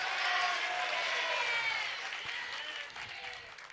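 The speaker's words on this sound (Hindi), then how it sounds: "तालियों की आवाज में तो वृद्धि हो गई" Audience applause at a Jain spiritual discourse, a dense steady clapping that fades gradually with no talk over it.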